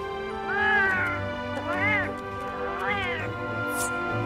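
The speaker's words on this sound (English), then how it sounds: "I love the kitty sounds." A cat meows three times in rising-and-falling calls against a busy background of game sounds and voices, the meows moderately loud and clear during a Final Fantasy XIV stream.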